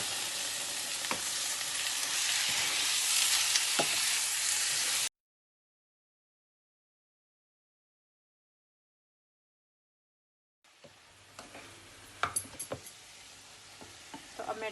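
Chicken pieces sizzle and fry in a hot pan with garlic, a loud steady hiss with crackles that cuts out abruptly, then returns quieter with sharper pops and spatters.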